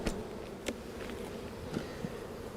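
Honeybees from a swarm hum softly inside a hive box, a faint steady drone broken by a few brief nearby buzzes as individual bees pass close.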